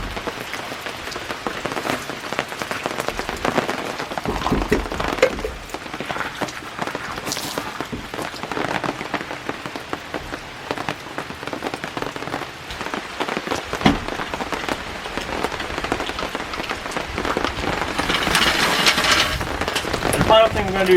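Rain on a rainy day in Cheaha State Park, Alabama, a dense steady patter and hiss of drops striking surfaces nearby, with a few louder splashes and thumps and some faint background sounds.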